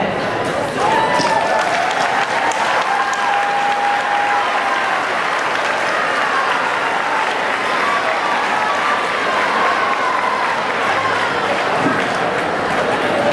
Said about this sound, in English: Please join me in applauding all of our alumni here today